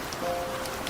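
Rain falling steadily, a soft, even hiss of drops on surfaces with no voices, quiet and continuous throughout the short stretch.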